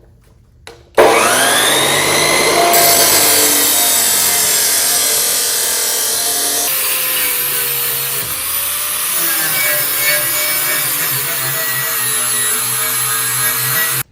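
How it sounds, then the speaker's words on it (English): A power tool cuts a steel plate in a garage during a tow truck build, giving a loud, steady high-pitched whine with shifting tone that runs continuously for about thirteen seconds after a short start. "So I'm going to cut some steel, add on a plate so we can get that thing bolted up."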